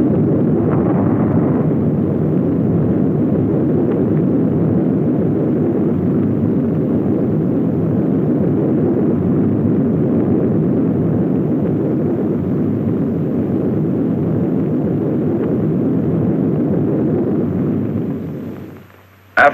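Atomic bomb test explosion, heard as a long, loud, sustained low rumbling roar that holds steady for many seconds before fading out abruptly.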